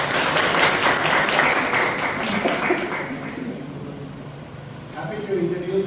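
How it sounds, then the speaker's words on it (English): Audience applause at a Toastmasters club meeting, a dense burst of many hands clapping that fades over several seconds, with a voice speaking near the end. "Can you give a round of applause?"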